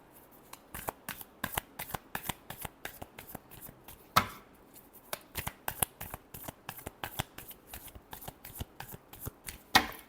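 Tarot cards are shuffled by hand for a weekly horoscope reading, producing a long run of quick, crisp riffling slaps and flutters close up, with no talking over them.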